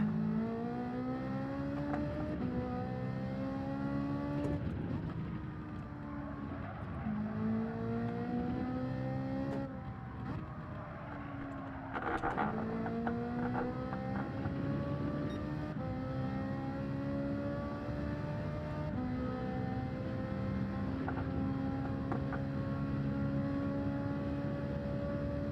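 Race car in Gran Turismo 7 lapping a circuit, its engine whining up through the gears in repeated rising sweeps with shifts and brief lifts, continuous and fairly quiet.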